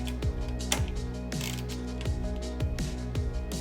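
A ratchet with a 10mm socket turning a screw and nut on an Apollo Air Pro electric scooter, a steady run of close clicking ratchet strokes repeating evenly, with no talking.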